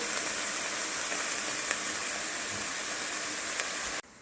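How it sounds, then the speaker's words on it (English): Loud, steady sizzling hiss of chicken tortilla soup ingredients cooking in a pot, close up, with a few faint pops before it abruptly cuts off. "Hear that sizzle."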